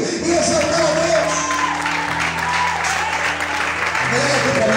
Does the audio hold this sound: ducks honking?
no